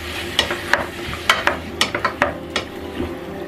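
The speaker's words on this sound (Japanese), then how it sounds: "じゃがいもと人参の表面に火が入るような意識をしながら炒めていきます。" Potatoes and carrots sizzle with softened onions in a pan as a utensil stirs them, giving a steady hiss broken by a run of quick scraping clicks at an uneven rhythm.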